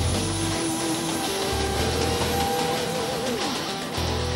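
A Lockheed C-5 Galaxy jet transport arrives, its engines a loud, dense roar filling the whole short stretch with a faint whine gliding across it and no talk.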